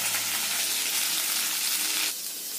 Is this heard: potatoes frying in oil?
yes